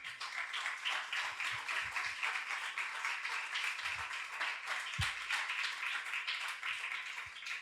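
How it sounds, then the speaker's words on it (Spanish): A church congregation applauds during a sermon, a sustained, even round of many hands clapping at a moderate distance, with a few low thumps scattered through it and no talk. "¿Cuántos le dan un aplauso al Señor?"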